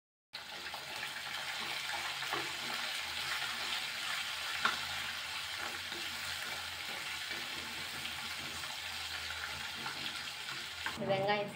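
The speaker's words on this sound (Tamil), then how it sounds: "வெங்காயம் சேர்த்து மீடியம் ஃப்ளேமில் 4 நிமிஷம் ஆகுது" Chopped onion with curry leaves and asafoetida fries in oil over a medium flame for rice upma, a steady, dense sizzle lasting throughout with small crackles and a stirring clink near the end.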